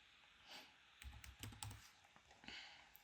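A password is typed on a computer keyboard: a quiet, close run of irregular key taps in a few short bursts, with no voices.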